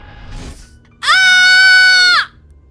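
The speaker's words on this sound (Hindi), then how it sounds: "क्या हुआ जूली, तुम इस कदर चिल्ला क्यों रही हो?" A girl's loud, sustained scream in a horror story set around a moving car, a single long wail lasting over a second after a brief quieter sound.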